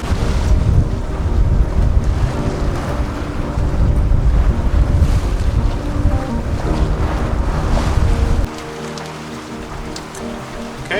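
A sailboat on a close reach through fog and rough seas: loud, continuous wind buffeting and waves washing along the hull, with the roar easing slightly near the end.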